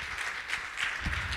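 A church congregation applauds during a Sunday morning service, a broad, even wash of clapping that swells slightly toward the end, heard from some distance in a reverberant hall.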